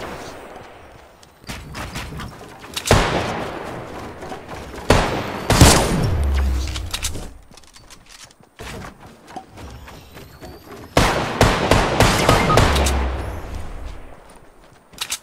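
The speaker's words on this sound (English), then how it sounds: "That fool's shooting through walls." Gunfire in Fortnite rips out in two long, loud automatic bursts separated by quieter gaps, each volley a rapid chain of sharp shots with heavy impacts, while a player talks between them.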